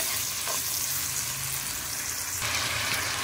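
Potatoes and capsicum fry in hot oil, giving a steady close sizzle with brief stirring scrapes and no talk.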